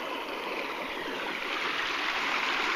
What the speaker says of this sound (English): Water rolling over the down tree.